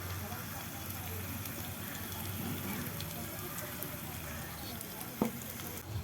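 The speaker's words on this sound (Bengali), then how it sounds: "পেঁয়াজ আদা রসুনগুলো ভাজা হয়ে গেলে আমি মাছগুলো দিয়ে দেব" Onion, ginger and garlic frying in a tiny miniature pan, a steady soft sizzle running throughout with a brief sharp crackle near the end.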